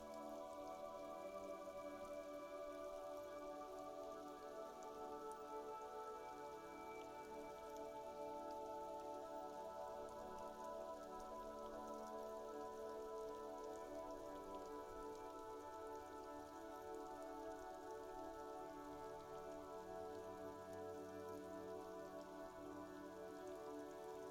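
Steady rain falls throughout a scene in the video game Disco Elysium, a continuous soft patter that holds an even loudness from start to finish beneath sustained, droning musical tones.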